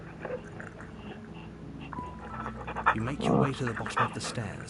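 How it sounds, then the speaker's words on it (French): A dog pants rapidly and steadily at close range, with a brief tonal beep and some rustling partway through. "ça c'est le bruit de mon chien"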